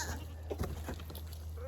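A farm goat bleats a few times nearby, short wavering cries over a steady low hum, with no talking.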